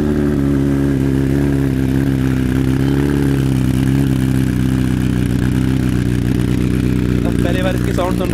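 A 2020 BMW S1000RR M Package with an Arrow full exhaust system idling loudly and continuously, a deep, steady rumble close to the listener that never lets up. Someone talks over the engine near the end.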